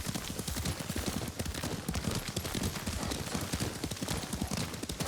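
Horse hooves in Ghost of Tsushima: a fast, continuous clip-clop of a galloping mount, loud and dense under a broad game ambience, with no talk.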